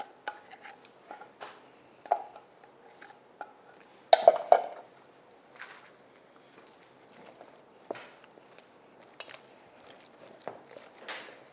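Mashed sweet potato is stirred together with honey and melted butter in a bowl, with intermittent spoon clinks and soft scraping taps, sparse and close, in a quiet room.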